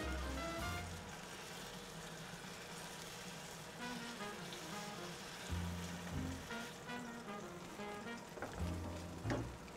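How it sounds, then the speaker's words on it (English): A reverse-seared steak sizzles in a hot pan, a soft, even hiss running throughout with a few brief louder crackles and faint clatter near the end. "Just give a little extra sear on the side here."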